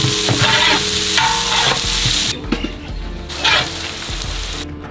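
Onions fry in hot oil with fennel, mace, coriander seeds and poppy seeds, giving a loud, close, steady sizzle broken by brisk stirring and scraping in the pan, with no talking.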